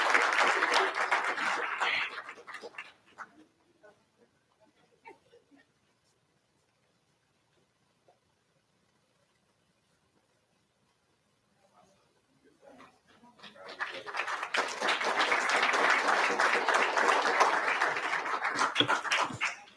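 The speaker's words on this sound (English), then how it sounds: "And can we give Mom a round of applause also?" An audience at a school board of education meeting breaks into applause, a dense wash of clapping that stops, leaves near silence for about ten seconds, then swells again into sustained applause.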